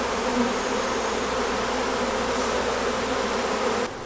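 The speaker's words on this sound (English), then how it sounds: "I see a lot of bees trying to get back in." A thick, unbroken drone of numerous honeybees humming nearby around a hive in an urban garden, constant in level before dipping slightly at the very end.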